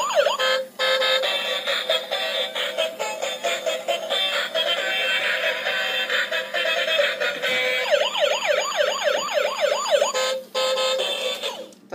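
A battery-powered Bump and Go toy fire truck blares a loud electronic siren up close, a shrill wailing tone that warbles and then breaks into rapid whooping sweeps, with short dropouts along the way.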